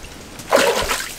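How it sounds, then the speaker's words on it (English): A whitefish released back into a lake makes a single short splash, near and fairly loud, followed by a brief wash of water. "We're gonna get this fish back in the water."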